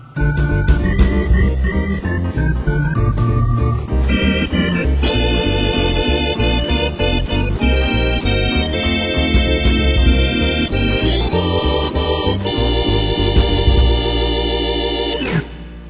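An organ plays a sustained chordal passage with a bright, hollow, bell-like registration from the 16, 8, 5 1/3, 2 2/3 and 1 3/5 foot drawbars, loud and full with no voices.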